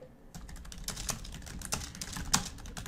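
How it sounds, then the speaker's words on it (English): Someone types on a computer keyboard in a steady patter of soft key clicks with a few sharper taps, close and fairly quiet, with no voices. "You can probably hear me typing to him"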